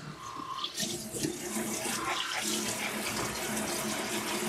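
Warm water runs steadily from a tap into a grooming tub while a Schnauzer Yorkie mix is bathed, a continuous close splashing rush with no talk over it.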